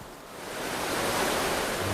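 A gushing river waterfall upstream in the wild, a steady broad roar of falling water that swells slightly and stays constant, with no voices.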